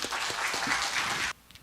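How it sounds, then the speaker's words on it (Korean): Audience applause at a Korean ceremony in Gimhae, a dense wash of clapping that continues for over a second and then cuts off sharply, leaving faint scattered claps. "큰 박수 보내드립니다."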